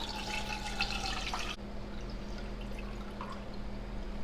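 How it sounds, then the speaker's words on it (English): Cold water pours from a pitcher over eggs sitting in a pot, a steady splashing stream that stops abruptly partway, then a few faint drips, close and without talking. "Take a pitcher of cold water and gently pour it over your eggs."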